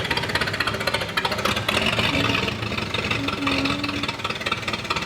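A car engine running at steady, raised revs during an engine-pulling job, a loud, continuous rattling drone with a knocking, jackhammer-like pulse, close up and with no talk.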